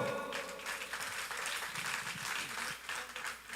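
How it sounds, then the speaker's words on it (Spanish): Loud, dense applause from a crowd at an event in Sacapulas, Quiché, Guatemala, steady clapping filling the whole stretch with a few cheers mixed in. "recibámoslos con fuertes aplausos"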